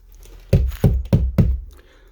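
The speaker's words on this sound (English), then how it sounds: "He walked angrily to the poor couple's house and pounded on the door." Angry pounding on a wooden door of a poor couple's house: four heavy, evenly spaced knocks, close and loud, then silence.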